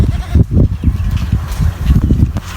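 Goats brought home from an auction house bleat loudly and close by while being wrangled and chased into a group, letting out a quick series of overlapping calls with no talking.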